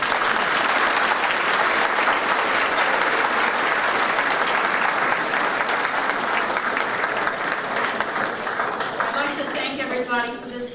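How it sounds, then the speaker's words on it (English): A dinner audience gives the Scatterbow family a sustained round of applause, a thick wash of many hands clapping for about ten seconds, with a voice starting to speak as it fades at the end. "So everybody give a hand to the Scatterbow family."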